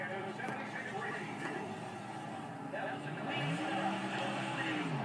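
A race car in NASCAR Thunder 2004 pulls out of the pits at the Auto Club 500 in California, its engine droning steadily and building slightly under a commentator's continuous talk.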